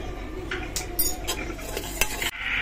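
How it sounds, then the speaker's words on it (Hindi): Ginger garlic paste is stirred into hot oil with browned onions for chole masala, giving a steady close sizzle broken by scraping spoon strokes and clinks against the pan. "अब हम इसमें ऐड करेंगे अदरक लहसुन का पेस्ट।"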